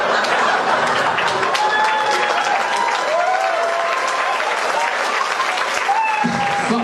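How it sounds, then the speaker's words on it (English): Audience applause at a live comedy podcast recording, loud and sustained with dense clapping, cheering and a few whistles throughout, laughter and chatter mixed in. "That's an applause break"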